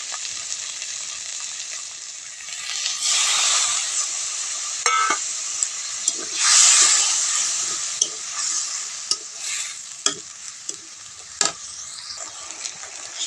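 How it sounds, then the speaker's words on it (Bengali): A splash of water poured onto sizzling potato masala with turmeric and salt for a new-potato aloo dum, rising into a loud steamy hiss while a spatula stirs and clinks against the pan. "সামান্য একটু জল দেবো জল দিয়ে মশলাটা আমি কষিয়ে নেবো"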